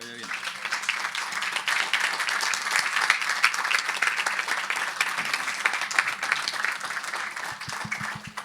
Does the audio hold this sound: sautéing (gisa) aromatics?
no